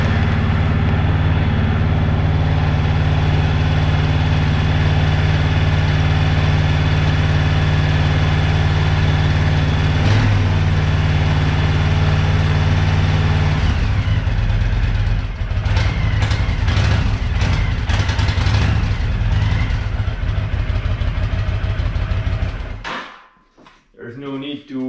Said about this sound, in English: It's this OEM exhaust system with a stock sound.